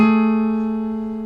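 A sustained major seventh on a piano rings clearly and gradually decays, with no other sounds around it.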